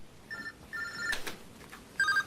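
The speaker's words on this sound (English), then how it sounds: "his cell phone rings" A cell phone rings with short electronic tone bursts, three rings spaced across the moment, over quiet background with a couple of brief clicks between.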